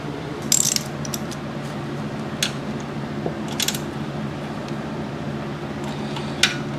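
A ratchet tightens the drain plug on a County Line 40-ton log splitter, giving several close, crisp bursts of clicking over a steady low mechanical background hum.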